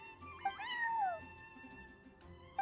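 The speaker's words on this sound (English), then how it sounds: "that's my neighbor's cat" A cat in the Genshin Impact video game gives one drawn-out, rising then falling meow, clear and close, over quiet background music.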